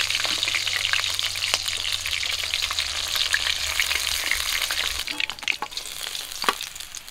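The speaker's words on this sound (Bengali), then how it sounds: "সবগুলো মাছ আমি এইরকম করে ভেজে নিয়েছি।" Freshwater featherback fish frying in hot oil in a pan, a loud continuous sizzle close up, with utensil scrapes and stirring clatter toward the end and no talking.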